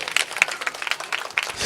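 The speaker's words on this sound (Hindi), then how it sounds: "ताली हो जाए।" Applause from a congregation at a church sermon: a short burst of scattered clapping from a modest crowd, with uneven sharp claps at moderate loudness and no talking over it.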